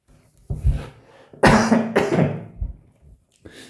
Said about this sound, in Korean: 왜 이렇게 기침이 나지?